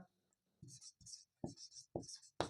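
Pen scratching out the working of a Class 10 coordinate geometry maths problem, a series of short close strokes in quick bursts against a quiet background.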